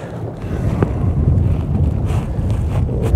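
Wind blowing across a lake during carp fishing in Hungary, a steady broadband rush with gusty buffeting on the microphone, continuous and fairly loud, with faint water sounds underneath.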